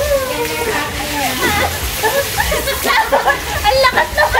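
Heavy rain pouring outside during a family beach day at Playa La Caleta, a dense wash of falling water running beneath near, continuous conversation.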